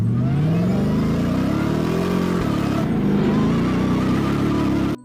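A toy Ford 4x4 car gives off a continuous mid-pitched engine revving drone with a rising, wavering pitch, loud and close, lasting about five seconds with no talk over it.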